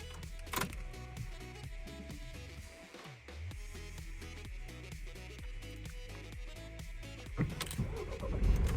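A 2017-era Opel Zafira Tourer C with a 1.6 CDTI 100 kW diesel cranks and starts, rhythmic starter pulses giving way to a steady idle, with a click and a louder rev toward the end.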